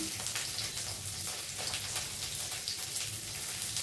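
Bitter gourd slices frying in hot oil with salt and turmeric, a steady dense crackle and sizzle that holds at one level throughout, close and with no voices.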